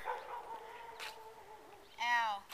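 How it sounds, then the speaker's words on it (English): A dog barks in a short burst of yelps near the end, after quieter background sounds. "Hey, shut up, dog."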